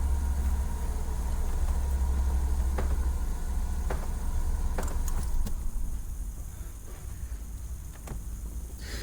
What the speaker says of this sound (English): The vehicle will run for 20 minutes.